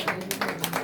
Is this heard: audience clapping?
yes